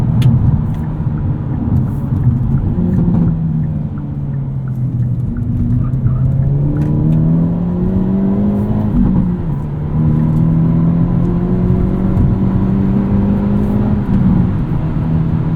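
A 2022 Hyundai Elantra N with a manual gearbox, in its most aggressive drive mode, accelerates up an entrance ramp, engine climbing through revs, dipping at a gear shift, then pulling again, heard from inside the cabin.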